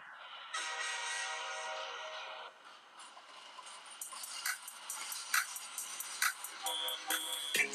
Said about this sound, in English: Whoa, that's the Spark train coming.